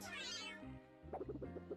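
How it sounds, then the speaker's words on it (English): A cartoon cat in the Freddi Fish 2 video game gives a short, clear meow followed by a quick series of chirpy mews, close and isolated with no talk. "Smiley cat."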